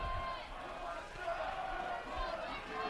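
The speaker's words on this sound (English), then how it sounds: "As the crowd starting to get into it" A college football stadium crowd at a Loras versus Buena Vista game roars steadily ahead of a fourth-down play, a broad sustained cheer with a commentator talking over it.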